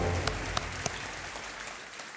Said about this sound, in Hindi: जोरदार तालियां इनके लिए बजनी चाहिए